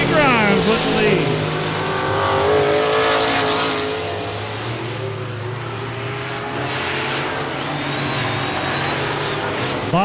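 Race cars roar past on the last lap at I-37 Speedway, a loud, sweeping engine drone with pitch sweeps as cars pass, while an announcer talks over the racing.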